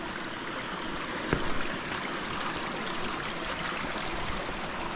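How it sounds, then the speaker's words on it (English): A small stream flows across a hiking trail in the Appalachian mountains, giving a steady, close rushing and trickling of water that runs unbroken, with one brief knock partway through. "A little water crossing here."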